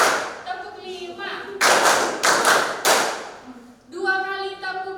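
Classroom children clap a rhythmic counting pattern during a lesson, sharp group claps in a few bursts separated by a teacher's voice speaking between them.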